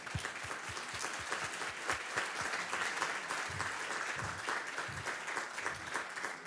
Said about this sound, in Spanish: Vamos, un aplauso para Lucila